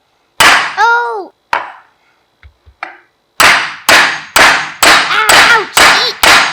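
Sharp metal hammer blows driving a roll pin into an electric vehicle's rear axle, loud ringing strikes in an uneven series with a few lighter taps, then a steady run of about six close, clanging hits.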